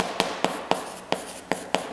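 Marker or chalk strokes on a classroom board during a physics lesson, about seven evenly spaced sharp taps and short scrapes in quick rhythm, close and clear with no talking.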